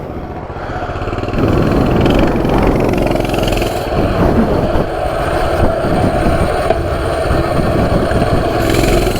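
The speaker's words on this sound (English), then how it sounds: "Starts right up, first pull." Coleman CT200U mini bike's small engine catches on the first pull and settles into a steady, loud, close idle with a rough, throbbing rumble.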